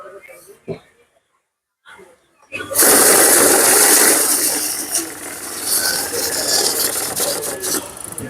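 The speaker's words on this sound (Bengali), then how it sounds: "আমি আরেকটা বিল কাউন্টার দেখাচ্ছি এই বিল কাউন্টারটাও দেখেন" A banknote counting machine riffles through a stack of a hundred notes, a loud continuous whirring flutter starting after a brief voice and running steadily to the end.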